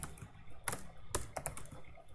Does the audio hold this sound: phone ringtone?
no